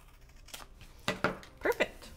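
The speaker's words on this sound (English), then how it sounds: "I've got my big scissors and I'm just going to trim right around these edges" Big scissors trim around the edges of a painted holiday card, making a few quiet snips and crisp paper cuts in short bursts.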